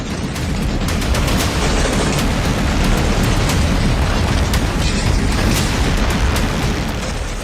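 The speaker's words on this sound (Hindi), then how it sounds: "अफगान फौज ने पाकिस्तानी चौकियों को टारगेट कर ताबड़तोड़ गोलियां बरसानी शुरू कर दी" Dense, nonstop gunfire with heavy booming blasts, a loud, chaotic barrage of rapid shots and explosions as Afghan forces fire on Pakistani border posts, filling the whole stretch without pause.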